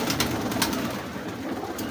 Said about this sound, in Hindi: बड़ा शर्मीला कबूतर है।